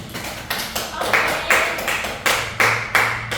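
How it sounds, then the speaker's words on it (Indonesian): Small classroom group in a microteaching session clapping in loose, irregular bursts, with several distinct sharp claps standing out over a light background. "tepuk tangan boleh sih"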